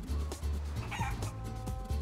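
A chicken clucking in the video game Guacamelee! 2, a rapid series of close, loud clucks over low game music, repeating throughout the two seconds.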